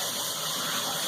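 Hot water running from a tap while washing up after cooking a whole chicken in an Instant Pot, a steady, close, hissing gush of water with no break.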